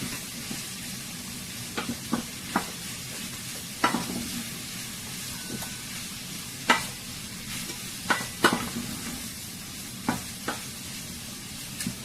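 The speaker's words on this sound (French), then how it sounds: "Il faut souvent faire revenir pour ne pas que ça colle au niveau de ta casserole." Food sizzles steadily in a pan while a utensil scrapes and knocks against it in scattered, irregular strokes.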